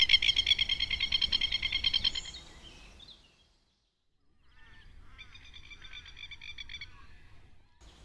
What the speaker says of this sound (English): A sound made by this. The masked lapwing